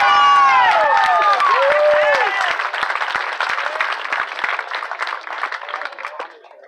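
A high school homecoming crowd bursts into applause for the newly crowned queen, loud clapping with high excited screams and whistles at first, the cheering easing into steady clapping that gradually fades.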